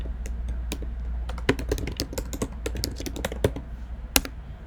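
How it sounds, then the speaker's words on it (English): Someone types on a computer keyboard, a close series of quick, irregular key clicks with occasional louder taps, over a low steady hum and without any talking. "all you need to do is just click here and start typing"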